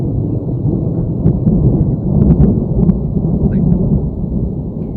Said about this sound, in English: Listen, wait for the thunder.